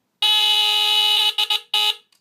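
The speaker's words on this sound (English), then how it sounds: "This is actually, I think, the lowest pitched alarm I own." A Sears Early One 350.57046 smoke detector gives a loud, piercing, low-pitched alarm tone that holds steadily, then stutters in two short bursts before cutting off, very close.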